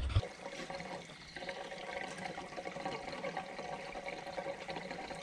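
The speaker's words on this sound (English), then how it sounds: "It's just draining straight out the side of the filler neck." Fuel drains from the side of the filler neck of a Bobcat 371 skid steer in a faint, continuous trickle and splash that runs steadily throughout under a low background hum.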